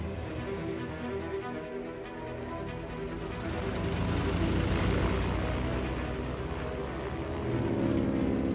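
Propeller planes carry Mussolini to Germany, and their engines drone steadily and loudly. The roar swells and eases a little but never stops, and no voices can be heard.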